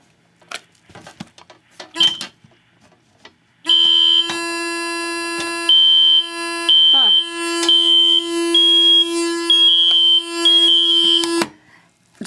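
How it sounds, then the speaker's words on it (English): Control panel of an alarm system during a system test beeping in a long run of sharp, tonal electronic pulses, loud and close, following some soft clicks and handling noises. "the panel just did a short beep at me saying that it wasn't all the way down"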